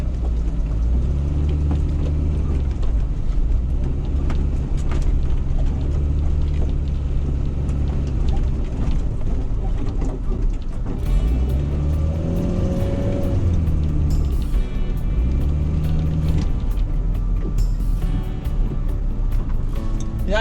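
A car leaves the road and turns around in someone's field, its engine droning steadily throughout with a couple of rising revs partway through. The sound is close and continuous, with no talking.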